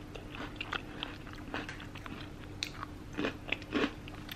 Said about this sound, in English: Now for real, crush it up.